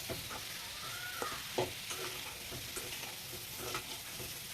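Fenugreek and mango with sugar are stirred and sautéed in a pan, giving a continuous low sizzle broken by scattered scraping clicks of the spoon.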